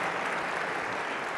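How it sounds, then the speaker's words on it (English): Audience applause for a panel at a Saudi-U.S. investment forum, a brief, steady, moderately quiet wash of clapping with no distinct individual claps. "can we give our panel a round of applause, please?"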